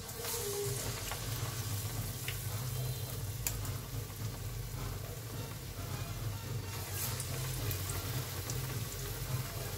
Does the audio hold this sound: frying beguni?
yes